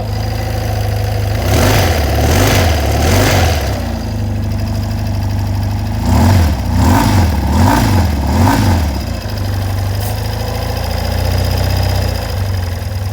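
A cold 1988 BMW R100 GS Paris Dakar motorcycle boxer-twin engine idles, with two bursts of gentle throttle blips rising and falling in rhythmic pulses between steady low idle, close and loud.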